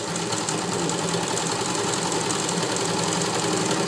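Sewing machine stitching a zipper, a continuous dense mechanical whir heard close up and holding a steady level throughout, with no voices.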